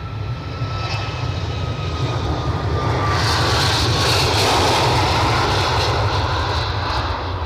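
A WestJet airliner departing for Halifax roars loudly and close, with a broad, steady jet-engine rush that swells midway and holds, with no talk over it.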